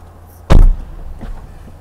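The trunk lid of a 2020 Mercedes-AMG C63 S Coupe shuts with a single close, solid thump followed by a brief faint latch click.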